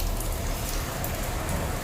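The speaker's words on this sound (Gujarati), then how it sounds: "જોરદાર વરસાદ ચાલુ છે" Heavy monsoon rain pours down steadily on Ganesh Chaturthi, a close, even, hissing wash of drops that carries on unbroken, with no voices.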